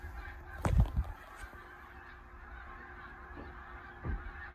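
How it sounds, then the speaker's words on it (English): Geese honk outside in a few loud bursts, one cluster near the start and another later, with faint outdoor ambience between. "There are some birds going crazy outside."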